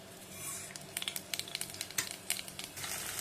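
Mustard seeds crackle and pop in hot oil in a pan, a quick scatter of sharp, close snaps over a soft sizzling hiss.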